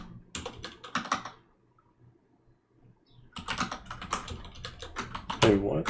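Typing on a computer keyboard during a command-line session: bursts of rapid key clicks, then a pause near silence, then more dense typing, close and clear.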